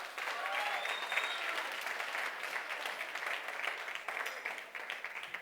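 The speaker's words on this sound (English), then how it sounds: "let's give them one last round of applause" Sustained audience applause fills a colloquium hall after a live performance, steady dense clapping throughout with a faint voice or two mixed in.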